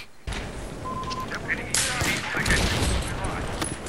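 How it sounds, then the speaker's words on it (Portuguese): Battlefield 4 gameplay gunfire comes in dense bursts of rapid shots and explosive cracks, loud and close, with steady game noise underneath and no speech. "eu tô atrás da parede e fico levando tiro"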